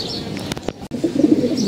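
Pigeons at close range give a brief soft coo and a flutter of wings, loud and near in a short moment.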